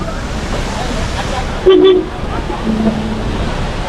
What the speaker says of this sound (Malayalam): മഴക്കാലമായാൽ മാത്രം വെള്ളം നിറയുന്ന ഒരു വെള്ളച്ചാട്ടമാണിത്